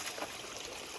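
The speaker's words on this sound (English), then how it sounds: "This is a little creek I was talking about." A small spring-fed creek in a hilly valley along a hiking trail flows with a steady, close, hissing trickle of running water and no voices.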